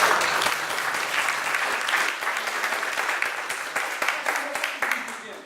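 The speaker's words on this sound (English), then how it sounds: "Give Wes a round of applause." Crowd applause at a clean comedy and magic show, a full wash of many hands clapping at moderate distance that thins into scattered claps toward the end, with some voices mixed in.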